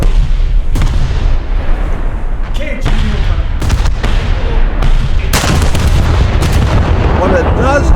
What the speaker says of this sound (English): What it does have is 8-inch guns as a secondary